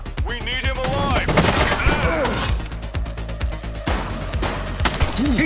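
Gunfire in The Precinct police game, a rapid volley of sharp shots and crashing impacts close by, mixed with shouting voices during a firefight with a gang leader.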